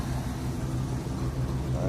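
A 1990 Ford Four Winds motorhome's 460 EFI engine idles through a Flowmaster muffler: a loud, steady, low rumbling drone that holds unbroken throughout.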